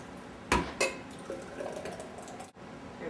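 A thick green smoothie is poured out of a blender, with two sharp jug knocks at the start, then a soft, close, gurgling glug of liquid running for a couple of seconds.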